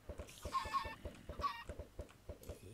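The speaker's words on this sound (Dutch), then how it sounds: "Wacht, ik gooi even de andere kippen weg." Minecraft chickens cluck in quick, repeated bursts, a busy run of short clucks close by and fairly soft, with no talking over them.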